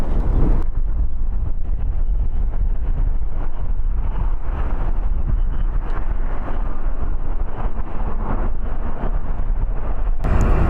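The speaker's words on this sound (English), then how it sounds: "it's very windy, so you might not hear me as much as you normally would" Strong gusty wind buffets the microphone at LAX airport, a loud continuous low roar with broadband rumble running the whole stretch, no voices heard.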